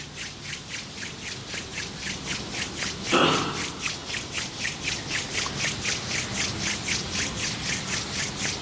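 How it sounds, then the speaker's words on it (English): Palms rubbing together steadily in a quiet room during a yoga nidra relaxation, a soft rhythmic swishing that repeats evenly for several seconds, close and gentle, with one slightly louder brush partway through. "Gently rub your palms."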